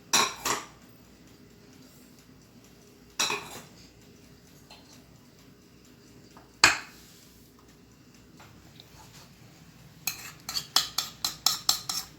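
A spoon stirs gulab jamun batter in a bowl with sparse, quiet scrapes and sharp clinks against the sides. It ends in a quick run of rhythmic taps close by.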